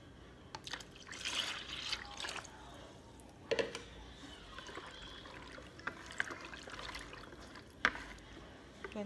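Milk poured into a Jamaican pumpkin bread pudding mix makes a soft, quiet trickle close by, with a few faint clinks and no talking.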